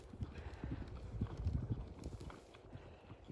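Cantering horse during a jumping lesson, with faint, soft hoofbeats thudding in a rolling rhythm, distant and low in level.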